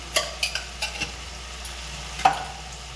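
Chicken filling with soy sauce is stirred and sautéed in a pan, a soft sizzle under a few distinct spatula scrapes and knocks against the metal, with no speech.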